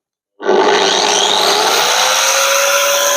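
A biscuit joiner plunges into a piece of wood to cut a slot, starting abruptly with a loud, steady high-speed whine that holds at full strength without pause.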